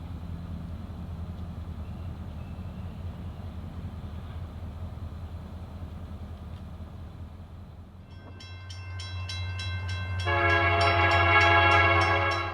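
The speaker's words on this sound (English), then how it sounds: "we captured the approaching CSX westbound intermodal train Q191 with 2 Union Pacific EMDs on the point." CSX westbound intermodal freight train led by Union Pacific EMD locomotives approaching on the Norfolk Southern Chicago Line, a low rumble growing closer before loud, sustained horn blasts near the end.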